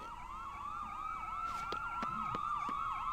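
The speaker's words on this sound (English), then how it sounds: "Ambulances. Tons of them." Several wailing ambulance sirens from the Trauma Team video game overlap in continuous rising and falling sweeps, loud and steady throughout, with a few sharp electronic clicks partway through.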